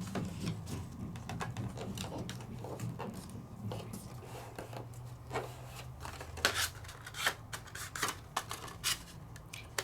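Scored card stock being folded along its score lines while making a full-size slider card, heard as close, quiet rubbing and creasing with a few sharper crackles and taps toward the end, with no talking.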